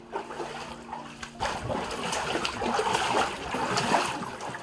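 Repeated sloshing and splashing as someone wades through floodwater in a narrow alley, continuous for several seconds after a brief quieter start.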